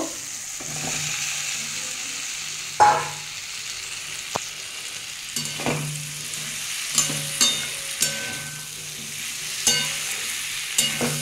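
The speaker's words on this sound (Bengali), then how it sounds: "আমি এবার ভেজে রাখা পটলটা দিয়ে একটু কষিয়ে নেব।" Fried pointed gourd being sautéed into a thin potato and puti fish curry, with steady close sizzling broken by repeated sharp scrapes and knocks of a spatula against the pan, no talking.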